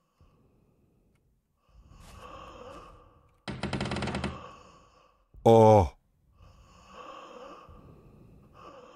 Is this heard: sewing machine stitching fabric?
no